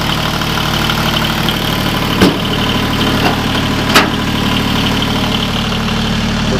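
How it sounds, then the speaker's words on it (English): A John Deere 850 diesel tractor with about 385 hours sits idling close by, a steady loud rumbling drone with a few brief clanks rising above it. "Motor sounds like it should"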